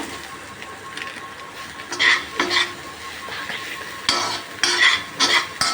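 Ground coriander and cumin powder frying in a hot pan, a soft steady sizzle with occasional louder bursts of stirring and scraping around two and four to five seconds, no voices.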